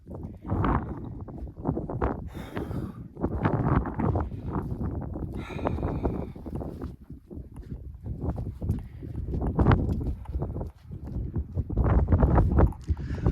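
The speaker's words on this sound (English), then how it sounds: "Whoa, it is very windy." Gusty wind buffets the microphone in rough, uneven bursts, with a few brief knocking sounds and faint bits of voice mixed in.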